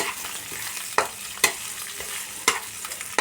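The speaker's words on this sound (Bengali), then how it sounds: "মশলাটা বানানোর জন্য আমি ভেজে নিচ্ছি।" White cumin seeds frying in oil for a spice mix, with a steady close sizzle broken by several sharp scraping stirs of a spoon in the pan; no voices.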